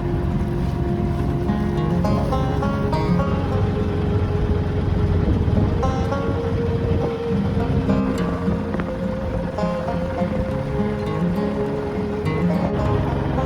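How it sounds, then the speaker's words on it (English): A very loud boat engine drones on the River Ant, a dense, steady rumble that fills the whole stretch with a little wind noise on top and no clear talk. "probably something to do with that very loud engine"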